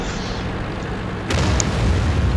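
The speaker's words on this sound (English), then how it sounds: "It's not that artillery fire crashing down around us." Deep booming artillery explosions crash down in a tank video game featuring the M18 tank destroyer, a steady rumbling barrage jumping sharply louder partway through, loud and close with no talk.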